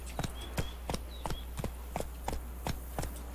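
Horse hooves in the video game Witcher 3 beat out a steady clip-clop gait, about three to four strikes a second. The hoofbeats are close and clear over a low ambient hum, with no talking.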